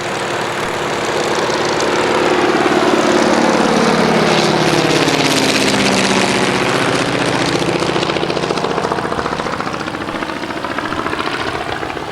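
A 1934 Ryan STM vintage aircraft's engine runs steadily and loud, with a continuous droning propeller roar whose pitch sweeps slowly as it passes, alone without talk.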